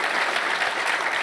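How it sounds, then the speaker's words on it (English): An audience at a college event applauds, a brief burst of steady, full clapping filling the room. "Give him a round of applause for being here tonight."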